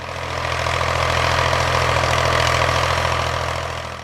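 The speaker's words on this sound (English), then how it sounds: "Turn the key, give it a second, and you'd hear that familiar rumble come alive, smooth, confident, and ready to work." A 3-cylinder diesel tractor engine rumbles steadily at idle, a deep, even, continuous drone heard up close and loud, rising gently and fading slightly at the end, with no voices.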